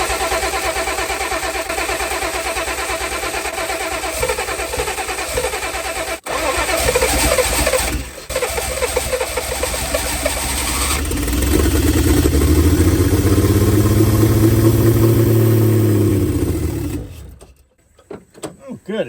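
A turbocharged engine with an Aces Killshot Classic throttle body cranks, then catches and settles into a loud, steady idle close to the microphone, with a brief rev rise and fall before it cuts out near the end.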